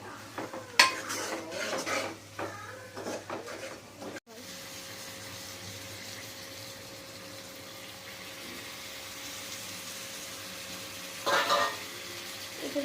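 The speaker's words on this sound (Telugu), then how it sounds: "ఇప్పుడు మంచిగా కలిపేసేసుకోవాలి" Chilli powder and turmeric being stirred into a bombdi fish and tomato curry, a spoon scraping and clinking against the pot in quick bursts, then a quieter stretch of low simmering with another clatter near the end.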